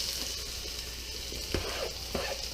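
Onions frying in hot oil for a Christmas Eve meal: a steady close sizzle with a couple of brief sharp clicks from a spoon stirring, and no talk.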